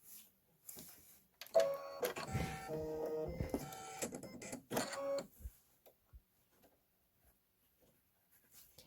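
A Kimberbell embroidery machine sews a placement stitch in pink thread, its needle clattering in a quick mechanical rhythm for several seconds up close, then stopping and leaving near silence with a few faint clicks.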